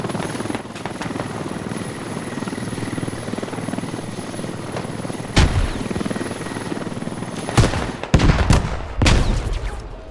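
A Mi-8 helicopter in the military shooter game Squad roars steadily with a loud, continuous rotor drone, then sharp bursts of gunfire and impacts strike near the end as it goes down.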